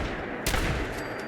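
A single Varmint Revolver, a Taurus Judge-style .44 revolver, fires in Fallout 4, one sharp, loud shot with a brief booming tail over steady game ambience.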